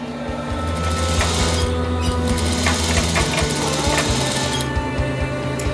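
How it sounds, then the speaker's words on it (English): A sewing machine stitches a straight quarter-inch seam in fabric for a skinny tie, its motor and needle producing a loud, continuous rapid whirring hum with fine rhythmic ticking throughout, close by and with no talking. "we're gonna sew up this straight seam a quarter of an inch"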